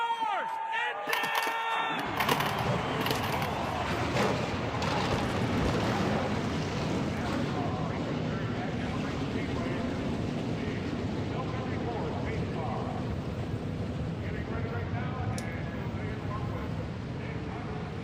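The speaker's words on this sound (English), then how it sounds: "Here comes the command to fire the engines for the 11th stop on the tour here at Sonoma" A field of race cars in a video game racing series fires up at Sonoma, California, a broad roaring rumble of many engines that swells in and keeps droning steadily.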